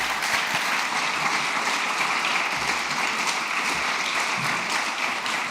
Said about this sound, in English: A big round of applause for Daniel.